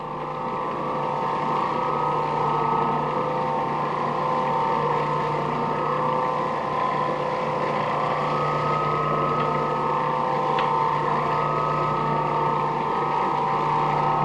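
An Oreck Orbiter floor machine spray buffing a waxed floor runs as a steady, close motor drone with a constant low hum and a faint whirring texture throughout, unbroken and with no speech.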